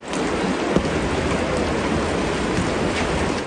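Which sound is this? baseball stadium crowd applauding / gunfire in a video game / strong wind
strong wind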